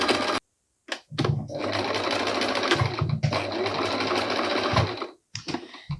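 A sewing machine stitches fabric in fast, loud mechanical bursts of rapid needle clatter, stopping for short pauses before running again, with a little talking in between.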